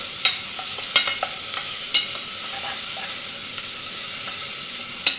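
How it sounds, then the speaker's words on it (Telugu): Ginger, garlic and turmeric sizzle in hot oil for a potato curry. The frying hiss is steady and close, broken by a few sharp crackles and stirring clicks, with no voices. "అల్లం వెల్లిగడ్డ, కొంచెం పసుపు వేసుకొని ఇందులో నూనెలో"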